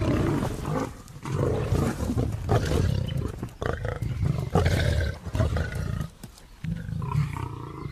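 Lions give repeated deep, rumbling roars, loud and close, in a wildlife documentary setting, with one call after another and short pauses between them.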